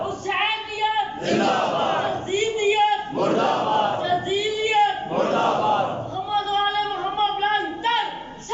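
A large crowd at a Majlis e Aza mourning gathering in Taxila chants a slogan in unison, loud massed voices rising in repeated surges about every two seconds.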